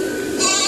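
Goats at a livestock market let out a loud, close bleat over a dense wash of crowd and market noise.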